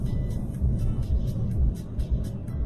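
A car cruises along the highway from Tabriz to Tehran, its steady engine and tyre rumble droning evenly from inside the cabin with faint rhythmic swells and no talking.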